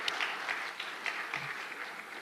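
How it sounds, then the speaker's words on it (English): Light, half-hearted applause from a small audience at a quiz game, a thin scatter of claps continuing softly for a couple of seconds with no talking. "Applaud her lightly and half-heartedly."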